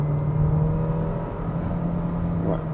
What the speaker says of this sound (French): En montant en régime, le moteur se fait un petit peu plus entendre